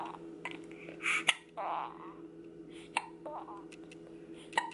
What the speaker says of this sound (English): Hiccups are no fun.